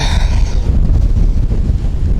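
Strong wind buffets the microphone in a steady, loud roar with no voices, outdoors while fishing from a boat.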